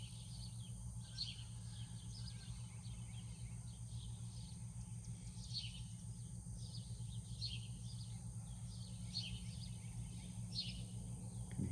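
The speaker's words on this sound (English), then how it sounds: "I can hear the birds, and I can hear the roosters and all in the background" Birds chirp repeatedly outdoors, faint and somewhat distant, over a steady low drone and insect-like hum; no rooster crow stands out.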